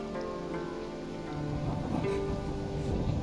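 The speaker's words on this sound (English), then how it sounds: "Storm's coming in." Steady, fairly loud rain hisses in the Assassin's Creed Odyssey video game as a storm approaches. It swells slightly partway through, with a faint low rumble underneath.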